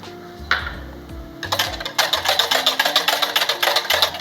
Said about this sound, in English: and we're gonna whisk that together.